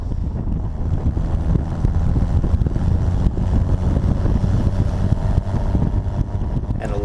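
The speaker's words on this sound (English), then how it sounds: "a lot of nice exhaust noise revving the car and climbing a hill" A right-hand drive Bugeye Sprite climbs a hill at low speed, its exhaust droning steadily and loudly under heavy wind buffeting, with no talking.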